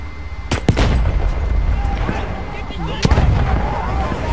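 A grenade blast in Battlefield 1 on PS4: sharp, booming explosions strike close by, two in quick succession and another a few seconds later, over a rumbling battlefield background.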